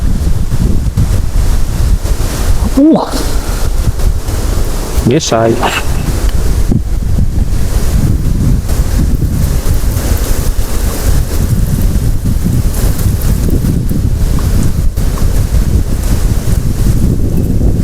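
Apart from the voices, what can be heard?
wind blowing into microphone outdoors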